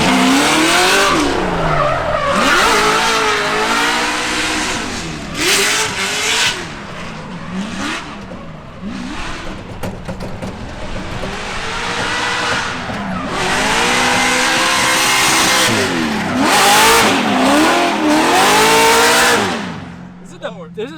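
A C6 Corvette drift car roars as it accelerates hard, engine note rising and falling with repeated revving and long tire squeals as it skids, loud and close, with voices talking over it.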